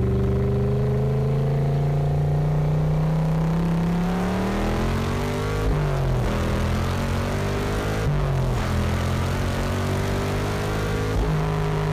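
A Superlite SLC sports car pulls hard in sixth gear on the road, its engine note climbing steadily with two brief dips, loud and close from inside the cabin.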